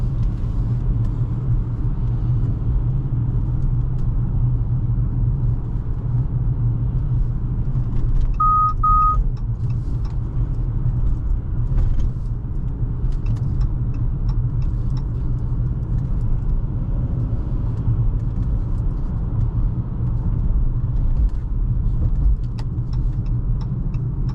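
A 2023 Chrysler 300 Touring L AWD with a 292-horsepower engine, heard from inside while driving as a steady low engine and road rumble, even and continuous throughout, with a brief faint chime partway through.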